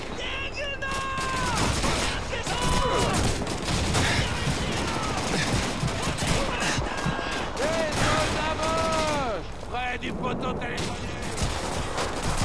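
In the World War II shooter Call of Duty 2, enemy gunfire aimed at the player rattles almost continuously in loud, overlapping volleys, with whining tones and explosions mixed into the battle noise.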